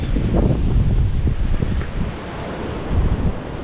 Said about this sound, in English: It's a little bit more wind now.